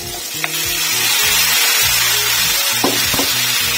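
Boiled vegetables sizzling and frying in a pan for masala veg pulao, a steady loud hiss with close clanks of a spoon stirring against the pan.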